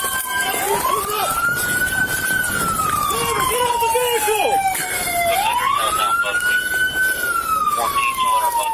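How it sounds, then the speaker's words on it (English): A police siren wails in rising and falling sweeps, loud and close, while people shout over it. "Cut the sirens."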